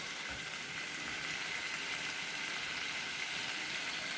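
Tomatoes and masala frying on high flame in a pan for egg rice, a steady, close hiss of sizzling with faint bubbling and no voices.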